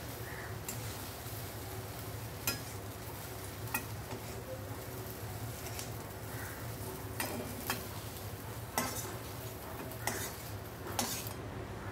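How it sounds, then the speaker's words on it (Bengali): Fried okra scraped from a pan into a bowl with a metal utensil, several sharp clinks and taps spread over a steady low kitchen hum, close and moderately loud, no talking. "এখন ঢ্যাঁড়সটাকে আমি একটা পাত্রে তুলে রেখে দিচ্ছি"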